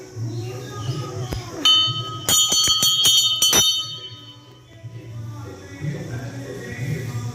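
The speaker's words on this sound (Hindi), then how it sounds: "घंटी बजा दे।" A temple bell at a village temple rings in a quick burst of about six bright, ringing strikes, close and loud, with people talking before and after.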